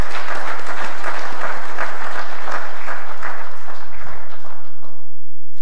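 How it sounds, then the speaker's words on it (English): Sustained applause from a seated audience at a graduation lecture for NDC Course 28 participants, honoring the guest speaker; dense, even clapping fills the whole stretch, loud and close, tapering slightly near the end with no voices over it. "may I respectfully request we give another resounding hand of applause to the guest speaker"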